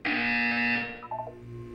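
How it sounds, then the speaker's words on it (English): A harsh electronic buzzer in an Aperture Science test chamber from the Portal 2 video game blares loud and steady for most of a second, then breaks into a few shorter stuttering tones, with no talk. "You will hear a buzzer."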